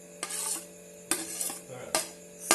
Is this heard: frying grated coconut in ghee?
yes